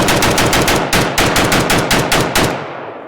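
A rapid burst of 7.62x39mm Grom rifle rounds is fired outdoors, loud and close, about a dozen sharp shots in quick even succession before a fading echo.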